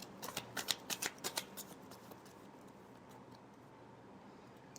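Tarot cards being shuffled by hand, a quick close run of about eight crisp riffling flicks in the first two seconds, then quiet with a faint final tap.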